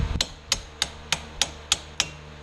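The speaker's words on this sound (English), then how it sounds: "Always use rubber mallets," A rubber mallet strikes a scooter engine cylinder seven times in a steady rhythm, each blow a sharp, close knock.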